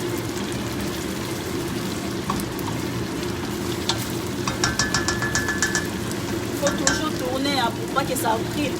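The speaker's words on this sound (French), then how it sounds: "je suis en train de tourner comme ça beaucoup parce que je ne veux pas que ma sauce tomate ça brille" Tomato sauce with onions and sugar is stirred in a saucepan: a steady low simmering sizzle runs throughout, with a series of scraping, clinking spoon strokes against the pan growing busier in the second half.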